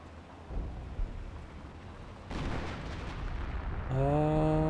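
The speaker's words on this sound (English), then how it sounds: "Right here, a 25-pounder barrage raining on in." Rumbling, booming explosions of a 25-pounder artillery barrage in Company of Heroes 1 roll continuously in a dense barrage, growing louder midway, before a steady harmonic tone cuts in near the end.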